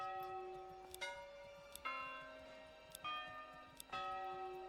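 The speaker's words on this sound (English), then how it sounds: "Change the bell sound." Church bell tolling in the medieval city-building game Manor Lords, four clear strikes about a second apart, each ringing out with long sustained overtones that overlap and fade between hits.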